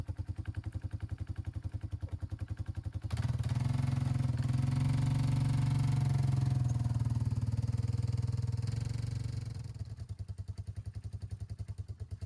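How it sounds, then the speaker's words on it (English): A four-wheeler engine revs up loud and close while shifting a log into position for a small log cabin in the Colorado mountains, a steady idle rising into a sustained heavy drone for several seconds before easing back to idle. "I'm gonna try to get it right into position right here using the four-wheeler"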